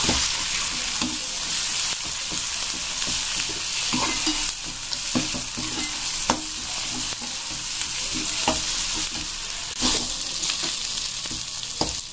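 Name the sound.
masala paste frying for chana masala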